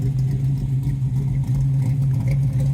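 A 1978 Nova's 406 roller engine with about 550 horsepower runs close by with a deep steady rumbling idle, low and loud with a slight lope throughout.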